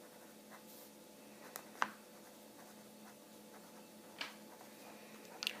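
Pen or pencil writing in a school notebook held sideways, a faint steady scratching with a few brief louder strokes and taps, close and quiet with no talking.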